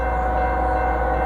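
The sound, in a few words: Freight train with Union Pacific locomotives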